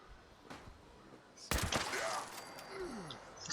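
A single loud, sharp rifle shot from the Fixer in Fallout 76 cracks out after a quieter stretch, followed by a ringing tail and game effects; a fainter earlier pop is also heard.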